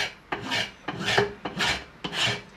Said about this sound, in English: then basically file, and you just take all the excess that's sticking into the vise up.